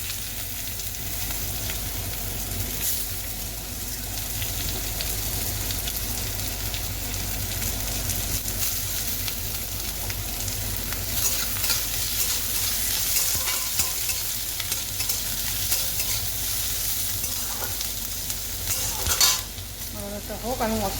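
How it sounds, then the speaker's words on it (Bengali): Chopped onion fries in a pan for an egg and brinjal dish, giving a continuous close sizzle with scraping stirs and occasional utensil clinks, steady in loudness and free of talk. "পেঁয়াজ কুচি দিয়ে দেবো।"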